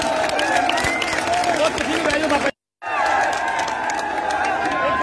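A rally crowd claps and cheers loudly in a dense, continuous roar of applause, briefly cut to silence midway, with voices shouting within the noise.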